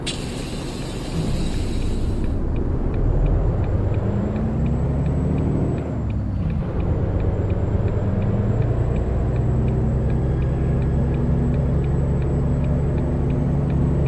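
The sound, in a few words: automatic truck pulling off, gearbox shifting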